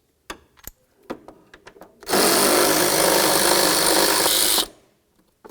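A power tool loosening 8mm-headed bolts on a 2000-2005 Buick LeSabre during radiator replacement: a loud continuous whirring burst of about two and a half seconds, preceded by a few soft clicks and knocks.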